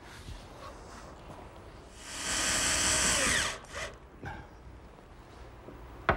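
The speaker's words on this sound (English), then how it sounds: "Now I'm going to put a couple screws from underneath to secure it." A power drill drives screws up from underneath into a pine cupboard. There is one loud whirring run of about a second and a half in an otherwise quiet workshop, followed by a few faint knocks.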